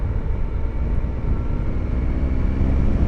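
Triumph Tiger 1215cc adventure motorcycle engine while riding, a steady low droning rumble mixed with wind rush, constant and fairly loud with no talking.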